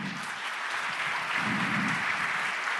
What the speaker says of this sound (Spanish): Un aplauso para Fabián Vega y Boris Vázquez